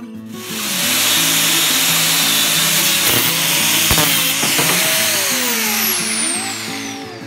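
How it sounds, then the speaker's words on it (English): A power tool cuts through the steel input shaft of a go-kart fitted with a 420 HEMI engine, giving a steady, loud grinding whine that holds for several seconds with a few sharp clanks and then tails off. "So it looks like we can cut the input shaft right about here."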